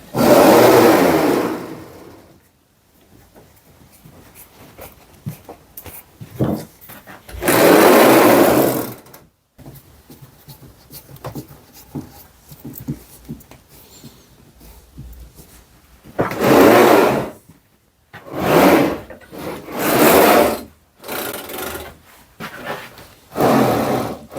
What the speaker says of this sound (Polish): Coś mi jeden wózek trykocze. Nie wiem jak to powiedzieć. Słychać chyba.